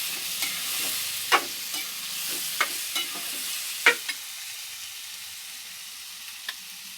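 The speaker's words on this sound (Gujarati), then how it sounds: "હવે આ ટામેટા સમારીને રાખ્યા છે એ નાખી દઈશું. સરસ સરખી રીતે મિક્સ કરી દઈશું." A spoon scrapes and stirs chopped tomatoes in a hot pan for a Kathiyawadi sev tamatar curry. Soft sizzling runs underneath as sharp scraping clinks sound at irregular intervals, close and with no talking.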